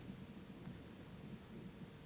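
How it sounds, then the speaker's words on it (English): Staged rain and thunder fill a London production of Sondheim's Company with a steady, dense wash of rainfall and a low rumble underneath. No voices are heard. "Oh, look, it's starting to rain."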